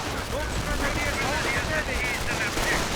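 Rapid machine-gun and rifle fire in a World War II real-time strategy battle between American and German infantry, continuous bursts with whizzing sounds, loud and dense throughout, with a voice talking over it.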